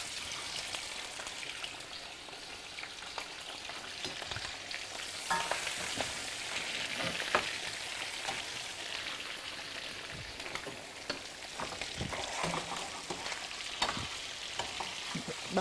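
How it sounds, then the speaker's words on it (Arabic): Cow trotters hit a hot pan and fry with a loud, dense crackling sizzle, broken by scraping stirs and sharp spatters that swell and fade, close up throughout with no voices. "هننزل بالكوارع بقى احنا بقى بنخش بالكوارع"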